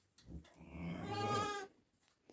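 A newborn lamb bleating on a farm, one long wavering bleat held for over a second, close and clear, with faint shorter sounds before and after and no talk.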